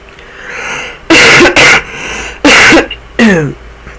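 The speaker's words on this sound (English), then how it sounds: "You should just know that when I cover my mouth, I'm going to cough" Four loud, abrupt coughs, near and harsh, in two pairs of bursts with short quiet gaps between them.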